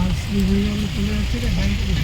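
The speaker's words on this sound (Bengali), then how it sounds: "তার মধ্যে পড়ে গেল বৃষ্টি।" Rain pouring steadily on a badly damaged village road in Panisala, Mohigram, with a dense wash of noise, while a vehicle slips; a low engine-like drone runs underneath throughout.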